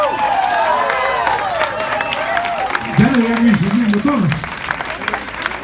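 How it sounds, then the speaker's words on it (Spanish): Crowd applause and cheering fills the clip while a person speaks loudly over it. "Un aplauso para ella."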